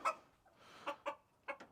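A chicken clucks several times up close, short bursty calls spaced unevenly across a couple of seconds.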